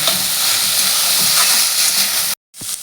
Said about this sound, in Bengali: এবার আমি আলু আর বেগুনটার সঙ্গে শাকটাকে ভালো করে মিশিয়ে ভালো করে একটু ভেজে নেব।